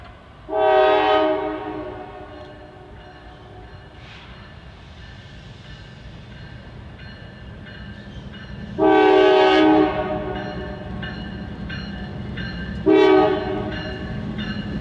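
A train hauled by diesel locomotives rumbles steadily past a former railway depot downtown as horns blast three times, a long sounding early, then two shorter ones later, with engine drone throughout.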